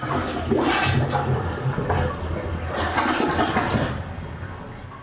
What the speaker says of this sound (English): First flush, checking for leaks.